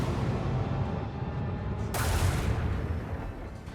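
Ship batteries fire in Warhammer 40,000: Rogue Trader, a dense, sustained rumble of gunfire with a sharp, louder burst near the middle that rolls on as a heavy barrage.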